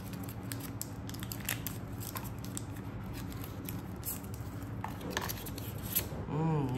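Crinkly plastic rustling and tearing as a pack of DJI stickers for an Osmo Action 3 is opened by hand, steady close crackle with a few sharper snaps, a voice briefly murmuring near the end.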